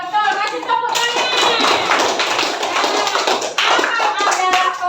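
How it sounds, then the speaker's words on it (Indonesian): Students in a classroom Islamic lesson in Palembang burst into loud, dense clapping, mixed with raised voices, for nearly five seconds with a brief dip partway through. "Kasih tepuk tangan"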